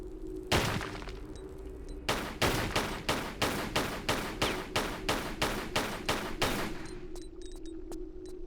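Pistol shots at a bat in a Tomb Raider custom level: one shot, a pause, then about a dozen evenly spaced loud gunshots in a steady rhythm over a low ambient hum.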